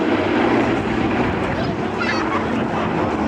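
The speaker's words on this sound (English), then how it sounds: "these Invaders powered by those mighty Pratt & Whitney 2800 double wasp rated engines" An A-26 Invader with Pratt & Whitney R-2800 Double Wasp radial engines roars past at an air show flypast, a loud, dense engine drone filling the scene throughout with a commentator talking over it.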